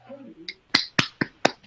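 A person claps their hands five times in a slow, uneven rhythm, each clap sharp and close, following a brief stretch of speech.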